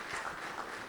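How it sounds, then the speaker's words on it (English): Audience applause at a business conference session for an SME company, a dense, steady wash of clapping from a crowd held for about a second. "Please give them a warm round of applause"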